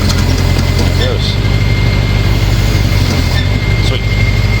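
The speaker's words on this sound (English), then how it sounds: "Tension up on the wheel lift, pull it back a hair, pull it up." A tow truck's engine idles steadily while its wheel lift raises a car, giving a constant low rumble throughout, close and loud.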